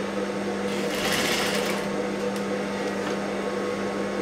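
A sewing machine stitches a blouse with a continuous, even mechanical whir close by, the motor's drone steady throughout with no talking.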